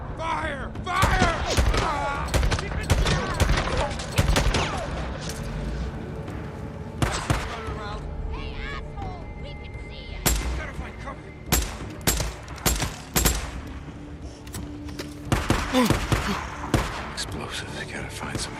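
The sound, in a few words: gunfire in video game Days Gone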